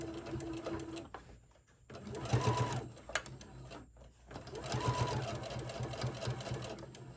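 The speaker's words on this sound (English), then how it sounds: "add another strap and a back stitch there. At the end of it, let's back stitch again." Sewing machine back stitching a strap on a small tote bag, running in two close bursts of steady whirring stitching with a short pause between them.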